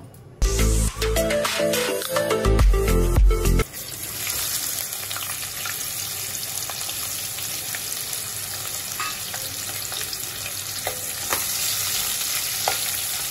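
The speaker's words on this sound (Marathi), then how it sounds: "आता हे तेल गरम झालं का यात कांदा टाकायचा" Onion dropped into hot oil in a cooking pot, a sharp burst of clatter followed by a steady, bright sizzle and crackle of frying that continues evenly to the end.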